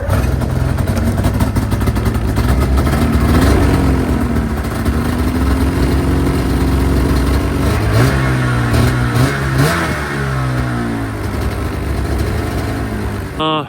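A DitchBanger race sled snowmobile engine runs close by, idling then revving repeatedly with rising and falling whine, loud throughout.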